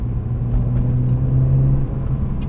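Naturally aspirated BMW M3 engine with individual throttle bodies, heard from inside the car as a passenger rides along, a loud, steady low droning rumble that swells slightly and eases off.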